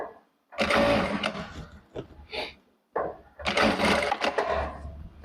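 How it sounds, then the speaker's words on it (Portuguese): A Jack A4 straight-stitch sewing machine runs in two loud, close bursts of rapid stitching. A short quiet gap separates them, with brief mechanical clicks and whirs from the presser foot lifting. "Eu continuo acelerando e a máquina parou, o pezinho ergueu"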